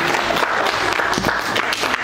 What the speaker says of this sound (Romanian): Încă o dată aplauze, vă rugăm.